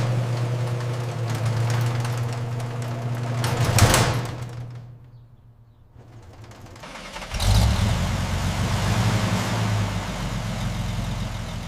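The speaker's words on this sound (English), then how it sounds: "the unmistakable rhythmic thrum of the Mercedes 170S engine settling into" 1950 Mercedes-Benz 170S, restored, its engine running with a steady low rumble and a brief swell, dropping to near quiet midway before the idle returns loud and close.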